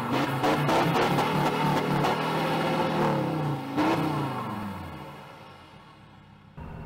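A Troller T4 engine revs hard up close, rising and falling through a few throttle blips before the roar winds down and settles to a quieter idle.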